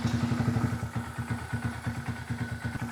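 2022 Honda Grom fitted with a Yuminashi 140cc big bore kit and ported head, its single-cylinder engine running at a steady idle with a close, regular thumping putter.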